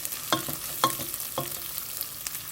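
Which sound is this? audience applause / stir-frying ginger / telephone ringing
stir-frying ginger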